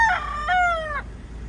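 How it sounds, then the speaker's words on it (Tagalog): A young Golden Boy sweater chicken, a pullet, gives a short, high, wavering crow-like call in two quick phrases, close and clear over faint background hum. "Pure golden boy sweater pullet."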